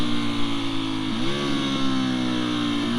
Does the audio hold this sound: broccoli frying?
no